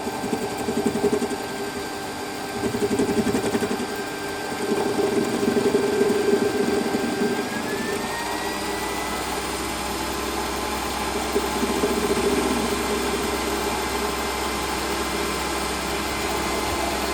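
A metal lathe faces the end of a piece of stock held in a three-jaw chuck, giving a steady close motor hum and cutting whine that shifts pitch partway through, with no talk.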